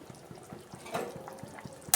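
Bengali rui fish curry broth with potatoes boils in a pot, a soft steady run of bubbling pops with one sharper clink near the end.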